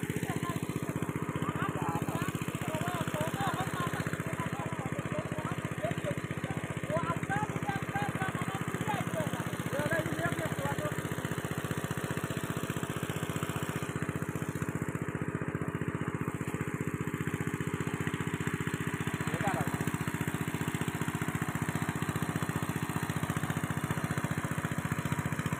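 A steady engine-driven pump drones throughout while a pond is drained for fishing, the motor running fast and loud as a continuous mid-range hum with no breaks.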